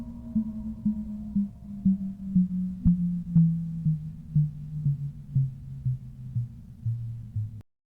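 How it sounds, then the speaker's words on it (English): Audio of a fast radio burst: a low, droning radio-like tone with regular pulsing throbs, a steady rhythmic beat sweeping slowly downward in pitch, with occasional faint clicks. "we know that today we get these FRBs, fast radio bursts, which sound like this."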